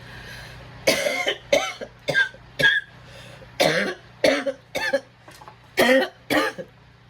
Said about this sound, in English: I've got kind of a cough.